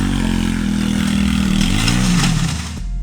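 A dirt bike engine in poor condition runs in second gear, a loud close droning buzz with a shifting pitch that dips near the end, no talk.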